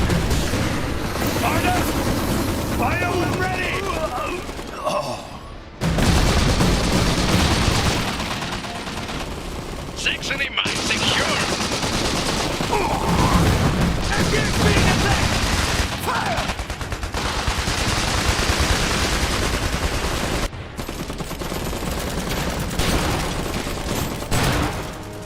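Machine gun and rifle fire in the Iron Harvest video game rattle in sustained bursts amid booming explosions, dense and loud throughout with brief pauses between volleys.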